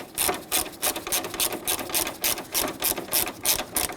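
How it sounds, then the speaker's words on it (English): A hand ratchet or gear wrench snugs down the headlight mounting bolts on a 2006–2010 Hummer H3, giving rapid, evenly spaced clicking strokes in a steady back-and-forth rhythm, close and clear with no talking. "I recommend just using a ratchet or a gear wrench."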